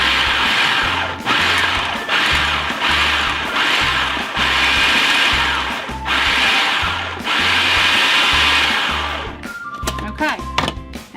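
Food processor pulsing frozen butter cubes for peach pie dough, in about a dozen loud, even bursts of whirring motor with short gaps between, ending in a few clatters.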